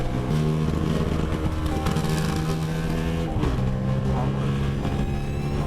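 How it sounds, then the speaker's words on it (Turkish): Another motorcycle's engine drones steadily close behind a rider on a road in Cyprus, its pitch shifting slightly as it revs, loud and continuous throughout. "Arkanda bir motosiklet seni şu an taciz ediyor."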